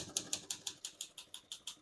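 Rapid, evenly spaced key strikes on a 1950 Olivetti Lettera 22 portable typewriter, about ten sharp metallic clacks in under two seconds, close and fairly quiet with no talking.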